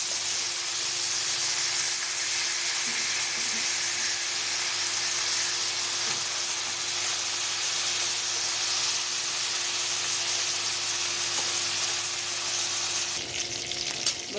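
Silver carp pieces fry in hot oil, a loud, continuous sizzle and hiss holding steady for about thirteen seconds before dropping away near the end, with no voices.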